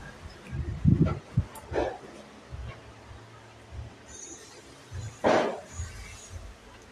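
A dog barks a few times and gives brief whimpering yelps at a low level, with quiet pauses and background noise between them, amid New Year's fireworks-fearing dogs at home.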